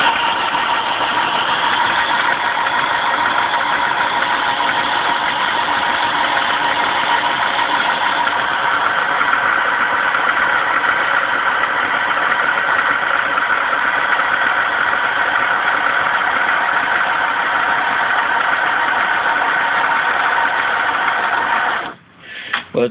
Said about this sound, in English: And this is a pump. It's very noisy at the minute,